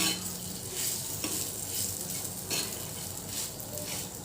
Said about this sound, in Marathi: शेंगदाण्याचं कूट ओबडधोबड पर कुटून घेतलेला आहे तर तोसुद्धा आपण तेलात परतून घेऊया